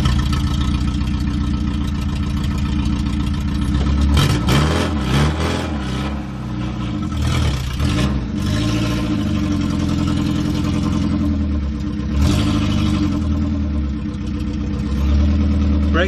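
A 1969 Ford Capri engine running rough with a coughing, spluttering note, idling and revving in uneven surges close by, a continuous low mechanical rumble throughout with no clear speech.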